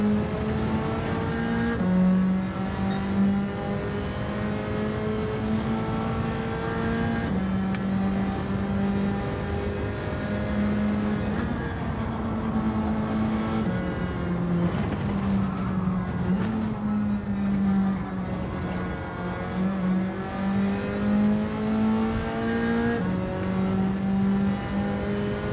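Race car engines in Gran Turismo 7 during an online lobby race, revving up and shifting in repeated climbing whines, with gear changes every few seconds in a continuous, fairly loud stream and no talk.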